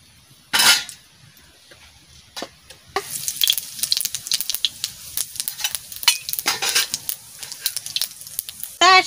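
Dry red chilies tempering in hot mustard oil, a sharp sizzle bursting in after a few quiet knocks and then crackling and spattering unevenly with occasional utensil clinks, loud and close.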